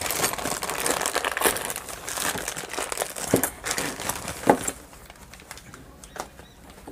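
Polythene bag being pulled off a Spark Minda lock set box for a TVS Jupiter scooter, heard close as loud, busy plastic crinkling and rustling with a few sharper crackles, easing to quieter rustles near the end.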